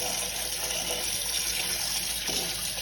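Running tap water splashing steadily as ingredients for a home remedy are washed under it, a continuous close gush with faint handling noises near the end.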